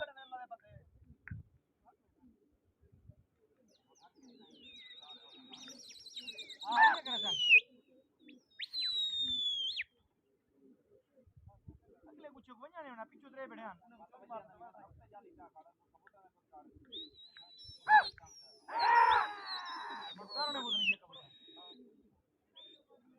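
Pigeons in a large pigeon flying contest between Taunsa Sharif and Kala Colony, with bird chirps and calls rising in bursts around the middle and near the end, heard under people talking nearby.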